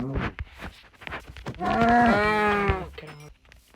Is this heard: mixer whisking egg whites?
no